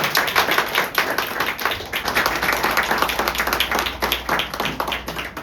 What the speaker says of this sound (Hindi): आइए परमेश्वर जोर ताली बजाएं।